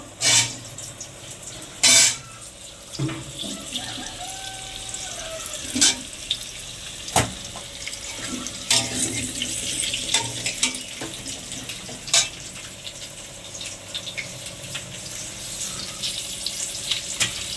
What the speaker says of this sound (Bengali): কড়ার তেলটা গরম হয়ে গেছে এতে আমি আলুগুলো দিয়ে দেবো